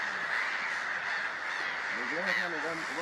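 A large colony of birds on Musambwa Island in Uganda keeps up a dense, raucous chorus of overlapping calls and caws, steady and loud throughout.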